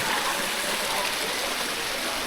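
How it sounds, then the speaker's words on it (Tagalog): Spring water flows steadily at a mountain site turned lake, a constant loud rushing wash of water with no break. "Meron palang spring water sa Kalakat kaya siguro na ipon yung mga tubig dito Kalakat."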